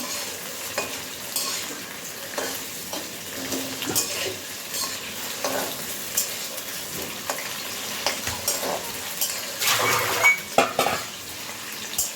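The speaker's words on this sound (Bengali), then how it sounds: "আলুগুলো একটু ভেজে নেব।" Potatoes sizzle in hot oil in a pan while being stirred, with frequent scraping and clinking of a utensil against the metal, close and fairly quiet with no voices.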